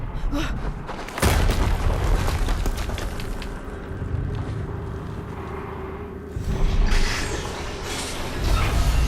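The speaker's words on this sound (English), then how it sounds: "Another explosion." A further explosion in Horizon Zero Dawn Remastered on PS5 opens with a heavy boom, followed by creaking mechanical rumble and a second loud burst near the end, all amid dense game noise.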